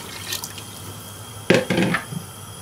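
Water poured into a pressure cooker while making mutton haleem, a short burst of splashing and trickling that stops and restarts briefly, close and alone against faint room noise.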